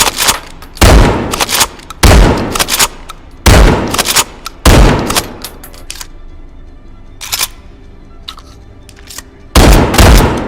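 Pump-action shotgun blasts in the VR shooter H3VR: about six loud, sharp booms spaced roughly a second apart, then a quieter stretch with faint clicks and handling noise before one more shot.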